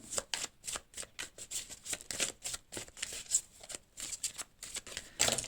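Oracle cards being shuffled by hand in a quick, steady run of soft papery riffles and flicks, close and fairly quiet, with no talking.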